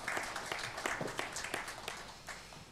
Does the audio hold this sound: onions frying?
no